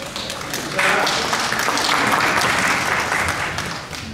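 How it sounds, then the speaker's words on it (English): A congregation at a Palm Sunday worship service claps their hands, sparse taps at first swelling into full, steady applause for a few seconds before easing off. "Show me how you clap your hands."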